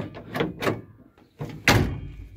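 Rear door of a Fiat Fiorino van opened from inside with the interior lever: mechanical rattling clicks, a short pause, then a solid latch clunk as the door releases, close and fairly loud.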